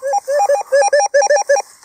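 Repeated electronic beeping from a metal detector sweeping a Roman-era field, a rapid run of short, loud tonal pips in uneven bursts, close and clear with no talk.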